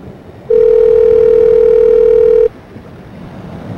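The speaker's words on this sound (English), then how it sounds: "Nobody's answering the phone." Telephone ringback tone on an unanswered call, a single loud steady two-second tone over faint line hiss, then quiet.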